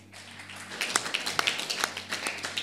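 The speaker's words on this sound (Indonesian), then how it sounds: "Tepuk tangan." Church congregation clapping hands during a pastor's teaching, a quiet patter of irregular claps building after a near-silent start and continuing to the end.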